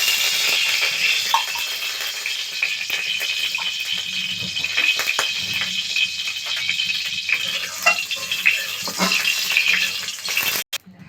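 Chopped cabbage sizzles and crackles in hot mustard oil in a wok, a steady frying hiss with occasional stirring clinks and scrapes close by.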